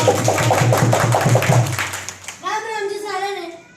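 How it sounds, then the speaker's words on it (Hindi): Audience applause for a girl invited on stage at a gender-transformative youth program event in Haryana, India, with rapid rhythmic clapping for about two seconds, then a voice speaking alone. "एक बार सुनीता के लिए जोरदार तालियां बजाओ।"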